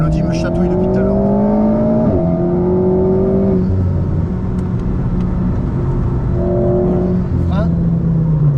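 An Alpine A110 accelerating on a race track, its engine loud and close, droning and rising in pitch through gear changes, with a brief squeal of tyres near the end.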